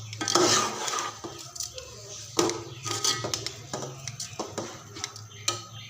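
Carrots and hand-broken rice being stirred in a cooking pot for gajrela, with a utensil clinking and scraping against the pot in irregular bursts, close and fairly quiet over a low steady hum.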